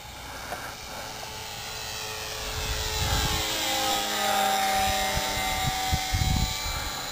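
A HobbyZone Super Cub radio-controlled model plane drones steadily overhead, its buzzing engine rising in pitch and loudness as it passes, with a few low thumps of wind.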